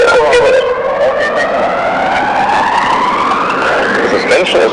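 A hybrid super sports car drives with a loud, rising engine whine that climbs steadily in pitch, alongside close tire and road noise.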